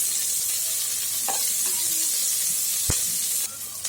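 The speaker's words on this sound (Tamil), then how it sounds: "நல்லா ஃப்ரை பண்ணி விடுங்க." Sliced onions and green chillies fry with whole spices in a pan for an egg biryani, giving a steady close sizzle and hiss throughout, with a couple of brief stirring scrapes and clinks.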